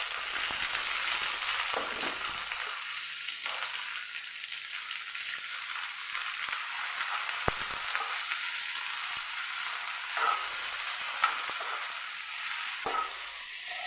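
Tomato, onion, green chilli, garlic and ginger fry in coconut oil in a pan, a steady close sizzle with occasional stirring scrapes and clicks, no voices.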